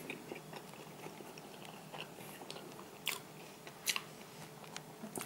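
Someone chews a Saarioinen classic ham pizza with soft crunches and bites that come at an uneven pace. A few sharper crisp bites stand out over the quiet background.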